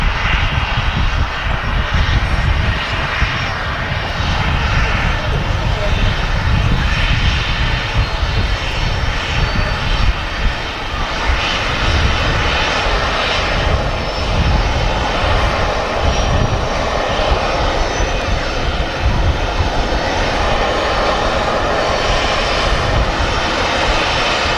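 Airliner engines roar loud and continuous at Manchester Airport, a broad steady rumble with a higher whine on top that holds for the whole stretch, with no voices.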